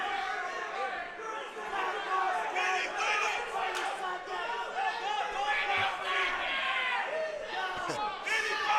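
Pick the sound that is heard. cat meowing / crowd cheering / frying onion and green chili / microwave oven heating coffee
crowd cheering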